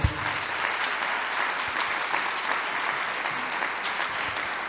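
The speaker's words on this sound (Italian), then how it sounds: "Propongo un bel applauso per Dario Bressanini" Audience applause at a talk event, a steady, dense wash of clapping from a crowd that holds evenly for several seconds.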